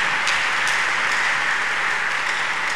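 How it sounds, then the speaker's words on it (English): A church congregation claps together in praise, a steady, dense wash of hands filling the room at even loudness throughout, with no voices rising above it. "Clap unto God of the Chosen."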